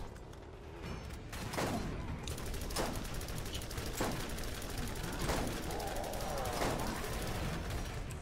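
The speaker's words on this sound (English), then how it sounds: "I'm shooting at him." Rapid bursts of gunfire in the co-op shooter Borderlands 4, aimed at a large Tankenstein enemy. The shots are loud and repeated over a steady din of game noise.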